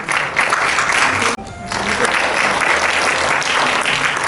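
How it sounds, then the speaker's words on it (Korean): An audience at a rural development project briefing session in Gurye breaks into loud, close applause that dips briefly once and resumes, with no speech over it. "박수 부탁드립니다."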